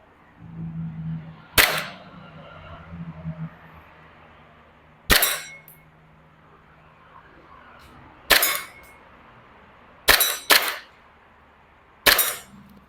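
A WE Glock 23 airsoft BB pistol firing single sharp cracks, one close shot at a time with pauses of a few seconds and a quick pair near the end, over faint background hum.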